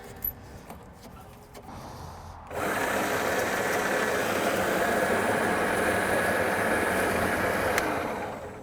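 A scarifier runs over a new lawn, used as a rake, its motor and tines giving a steady mechanical rattling drone that kicks in after a few seconds of quieter idling and holds to the end.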